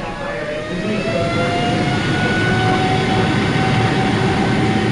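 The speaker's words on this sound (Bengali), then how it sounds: "এয়ারবাসে বসার কয়েক মিনিট পরেই ফ্লাইট রানওয়ে ধরে সজোরে ছুটে মাটি ছাড়া হলো।" An Airbus airliner races down the runway and lifts off, a loud, continuous roar of jet engines with rising whining tones, heard steadily throughout.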